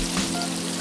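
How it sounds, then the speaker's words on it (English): Battered green tomatoes deep frying in oil give off a steady, even hiss of sizzling in a brief moment with no talk. "So anyway, we just let them fry."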